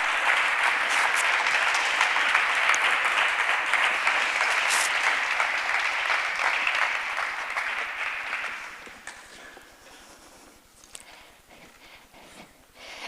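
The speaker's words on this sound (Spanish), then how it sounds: "Un fuerte aplauso para ellos" Audience applause at a conference on equality policies aimed at men, loud and dense for about eight seconds, then fading away into scattered claps and a quiet room.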